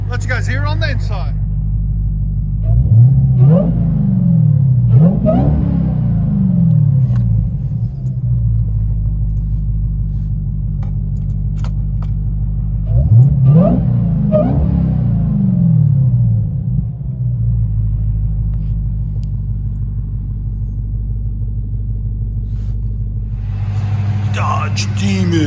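A 2018 Dodge Demon with an 840 hp supercharged 6.2L Hemi V8 and Kooks cat-back dual exhaust, heard from inside the cabin: a deep idle rumble broken by two sharp revs, each rising then settling back.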